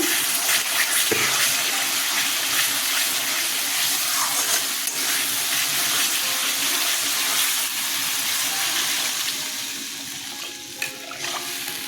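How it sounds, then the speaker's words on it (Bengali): Water poured into a simmering pan of fish curry after rinsing out the coriander paste container, a steady watery wash and bubbling that runs continuously and loud, fading slightly near the end. "এখন জল দিয়ে দেব ধনে পাতা বাটার কন্টেনারটা ধুয়ে একটু জল দিলাম"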